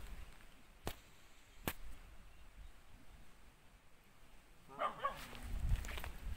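A dog barks in deep forest while trekking near Kodaikanal. The scene stays quiet with a couple of sharp clicks until a few faint, distant barks rise near the end.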